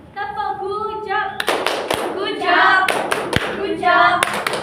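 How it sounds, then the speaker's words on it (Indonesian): Rhythmic patterned clapping from a classroom group doing a "tepuk gujab" clap cheer, sharp hand claps in bursts over a teacher's and children's voices chanting along. "Kita beri tepuk gujab."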